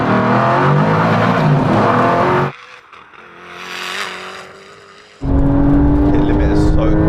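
A car accelerating hard from about 50 in second gear on a half-mile drag run, engine roaring loud and close, dropping to a quieter rising whine mid-run before surging back to a full roar.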